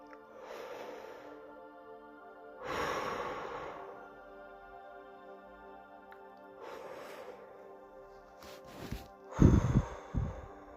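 Slow, deep meditation breathing, several long breaths in and out, close and soft with quiet pauses between them, growing a little louder and rougher toward the end.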